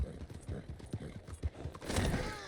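A horse gallops in the open-world video game Red Dead Redemption 2, its rhythmic hoofbeats thudding steadily and fairly faint, with a brighter rush of ambient noise swelling near the end and no talking.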